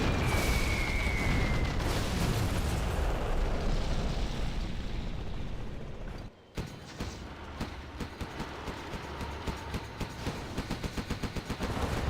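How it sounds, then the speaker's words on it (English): Carpet bombing in the real-time strategy game Command & Conquer Generals: a thick, continuous roar of explosions that cuts out briefly midway, then returns as a rapid run of sharp blasts and booms over a rumbling bed. "Here comes a nice carpet bomb from Tumstep"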